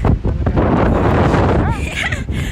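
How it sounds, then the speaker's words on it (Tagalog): Strong wind buffets the microphone outdoors at a park on Children's Day, a loud low roaring rumble throughout, with a voice speaking under it. "Ang lakas ng hangin."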